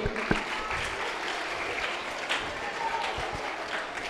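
A church audience at a Vacation Bible School event at Our Lady of Victory Church in Oulgaret, Puducherry claps steadily for a priest, even applause at moderate distance with a few sharper individual claps.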